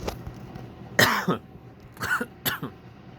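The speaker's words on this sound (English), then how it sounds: "sorry about that, cough" A few coughs, close and fairly loud, with a short gap before two more quick bursts; no talking.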